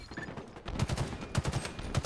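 Video game gunfire from a Halo battle rifle, short rapid bursts of shots repeating in quick clusters, fairly close and moderately loud over a busy game background.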